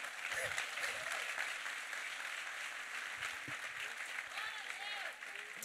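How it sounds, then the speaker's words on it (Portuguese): A church congregation applauds steadily for a Pentecostal pastor, dense clapping filling the room from start to finish at moderate loudness, with scattered voices and cheers mixed in. "Vamos aplaudir o Senhor pela vida dele."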